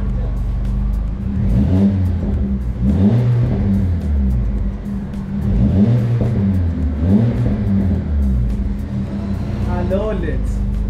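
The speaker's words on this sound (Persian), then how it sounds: "اگزوز اورجینال خوب بم اینجوریه صداش" A car with an upgraded aftermarket exhaust and a 55 mm tailpipe revs repeatedly, rising and falling in a deep, loud, close rhythm, with people talking over it.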